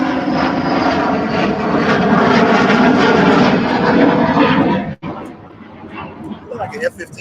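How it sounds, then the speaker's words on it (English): An F-15 fighter jet passes overhead as a loud, steady roar that holds for about five seconds, then cuts off abruptly into near silence. "Look like an F-15."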